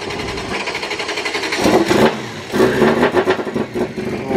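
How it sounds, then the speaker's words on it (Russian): A car engine with a suspected clutch or VVT valve fault cranks and catches, then runs loud and close with rough, wavering revs rising and falling over a few seconds. "Слышите, как заводится?"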